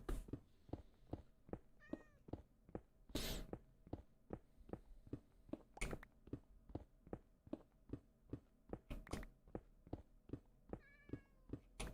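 A Minecraft cat meows a couple of times, short and clear, over a steady rhythmic thumping pulse and low hum in the video game, with no voices.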